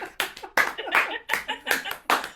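Small group clapping hands in a rhythmic, uneven pattern of distinct sharp claps and short bursts, close and moderately loud, with some voices mixed in.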